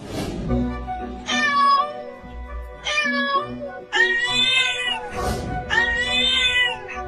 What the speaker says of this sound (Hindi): अरे चिंटू, ये बिल्ली इतना बोल क्यों रही है?